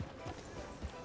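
Horse hooves clip-clop in Red Dead Redemption 2, arriving at a saloon: a few soft, close thuds spaced unevenly over a second, under a low game soundscape.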